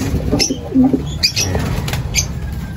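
A Basra line racing pigeon coos softly in short low bursts while wings flap in quick, close rustling beats, heard near and alone without talk.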